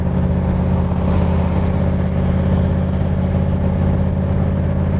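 A 1965 Shelby Cobra replica, a Superformance MKI, drives along with a loud, steady, droning engine note that holds evenly throughout, close and without talk.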